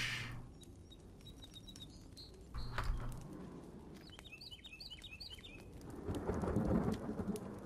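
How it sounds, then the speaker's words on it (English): A thunderstorm in The Forest survival game: steady rain hiss with rumbles and cracks of thunder, a louder rolling rumble near the end, and birds chirping intermittently through it, with no talk. "Another thunderstorm tonight."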